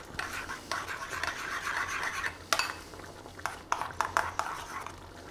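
Pork sauté being stirred in a pan after wholegrain mustard goes in, with a steady scraping, rubbing texture and a few sharp utensil clinks against the pan near the end, close and moderately loud, no talking.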